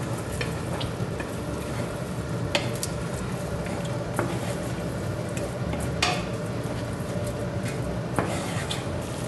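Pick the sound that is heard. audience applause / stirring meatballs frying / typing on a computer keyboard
stirring meatballs frying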